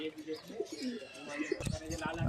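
Pigeons offered for sale coo softly in short warbling phrases close by, followed by a louder rustle or thump near the end.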